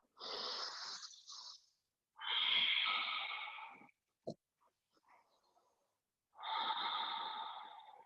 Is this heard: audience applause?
no